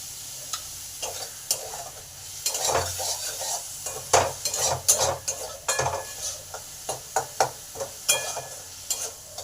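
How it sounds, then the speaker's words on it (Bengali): Onions frying in a pan with a little salt while being stirred, for an okra masala: a steady sizzle under repeated scraping and clinking of a spoon against the pan, close and fairly loud, with no talking. "পেঁয়াজটা যাতে তাড়াতাড়ি ভাজা হয় তাই সামান্য পরিমাণ নুন দেব।"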